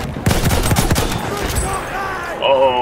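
Pistol gunfire in the World War I shooter Battlefield 1, a burst of rapid close shots in the first second and a half over busy battle noise, with a voice talking briefly.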